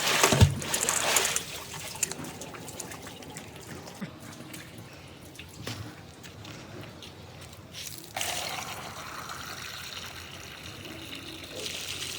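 Well water trickles and splashes while a bottle is rinsed outdoors, an uneven wet run of pouring and dribbling with louder spurts at the start and near the end.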